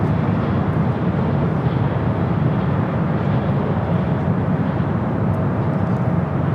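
An Emirates airliner at LAX airport gives off a steady, broad roar of jet engines. The sound stays constant and fairly loud throughout, with no talk.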